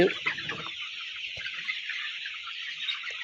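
Broiler chickens of about 700 to 800 grams cluck in a lit poultry farm shed, a close, steady chorus of high-pitched calls with one louder burst at the start.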